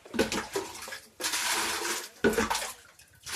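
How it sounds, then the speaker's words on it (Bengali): Water being scooped with a mug from a household water tank into a bucket during tank cleaning: repeated splashing, sloshing bursts with hard knocks of the mug, several scoops close by, with no talking. "এই মগ দিয়ে পানিগুলা তুমি বালটিতে উঠাও"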